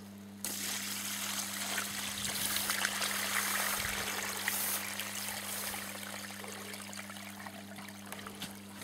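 Water pours steadily and trickles away in a continuous rushing flow, close by, with a faint hum beneath.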